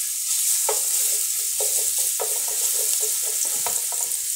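Garlic frying in hot oil in a pan, a steady close sizzle with scraping stirs coming through at intervals, and no talking.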